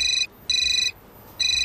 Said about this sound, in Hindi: तो आपका फोन बज रहा है?